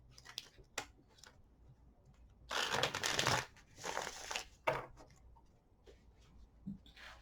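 Tarot cards shuffled by hand, two bursts of crisp riffling flutter with scattered soft taps and card snaps before and after, close and fairly quiet.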